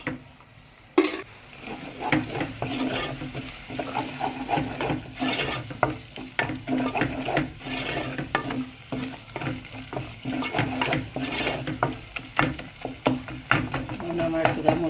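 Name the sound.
frying and stirring spices in a pan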